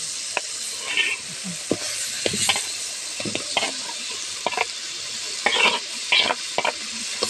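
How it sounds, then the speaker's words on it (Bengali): Hilsa fish frying in mustard paste on a clay stove, a steady bright sizzle broken by repeated scraping stir strokes and spatula knocks, close and loud with no talk. "এখন মাছ দিয়ে দেবো, ইলিশ মাছগুলো দিয়ে দেবো।"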